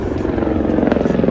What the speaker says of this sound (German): Da ist ein Heli oben.